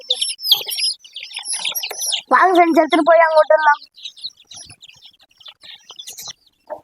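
Young chicks near their mother hen give high, rapid peeping chirps, close and intermittent, while someone speaks over them in the middle of the stretch.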